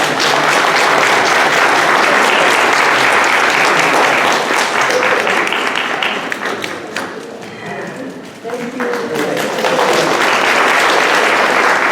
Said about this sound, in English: So I would like everyone to join me in applause in thanking Norris Woodford.